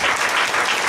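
Brief, loud, dense clapping from a church congregation giving thanks, a close wash of many hands with no pause.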